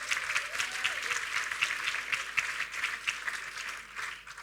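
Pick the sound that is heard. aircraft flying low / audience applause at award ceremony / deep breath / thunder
audience applause at award ceremony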